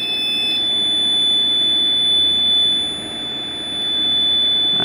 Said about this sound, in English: The buzzing you can still hear is the repeater panel.